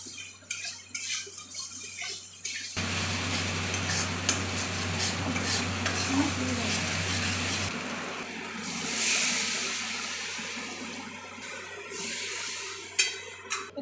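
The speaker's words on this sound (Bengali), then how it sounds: "ঝোলটা ফুটে এসেছে" Chhanar dalna gravy with kasuri methi, sugar and salt coming to a boil in a pan, a steady bubbling sizzle with stirring that quiets after several seconds, followed by lighter clinks.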